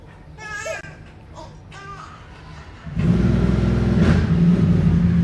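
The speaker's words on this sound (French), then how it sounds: "Oh, la moto." A motorcycle engine roars up suddenly and stays loud and close for a couple of seconds as it passes, after children's voices chatter and call out in the moments before.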